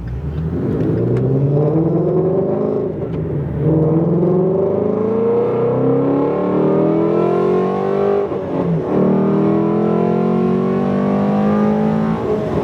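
A Ford Mustang GT350 fitted with long tube headers drones loudly from its exhaust, the engine note rising steadily as it accelerates through gears with brief dips between pulls, close and continuous.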